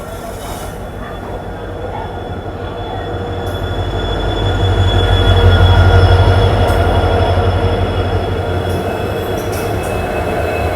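A Silchar–Guwahati Express hauled by twin diesel locomotives rumbles past at close range on the opposite track, its steady roar swelling to a peak and easing off, with faint metallic squeals over the rolling noise.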